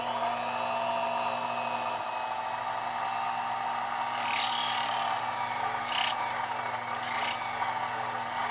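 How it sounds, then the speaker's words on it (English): A jeweler's setting burr drilling a flat seat for a stone in a tube setting, a faint steady high whir with a constant motor hum beneath, brief brighter scratchy bursts near the end, no talk. "I'm going to go ahead and drill in the flat seat for my stone."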